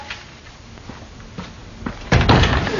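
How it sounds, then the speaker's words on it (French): A door opening, with a few soft thumps and rattles that swell into a louder, fuller rush of sound toward the end. "une porte ne s'ouvre jamais automatiquement, hein, sauf dans les supermarchés"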